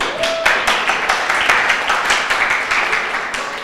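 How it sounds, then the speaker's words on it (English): A congregation at a Pentecostal-style church service for a Martin Luther King Jr. Day celebration claps in steady rhythmic unison, a dense, moderately loud patter of hand claps with a brief tone near the start. "Somebody give God uh, a hand clap, please."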